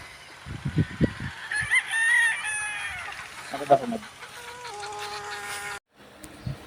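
Several gamefowl roosters crow one after another at a game farm, some near and some farther off, with clucking and other farmyard calls mixed in.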